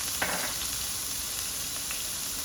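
Small cubes of chicken coated in ginger-garlic paste, salt and garam masala fry in a pan, giving a steady close hiss of sizzling with a couple of faint stirring scrapes, no voices.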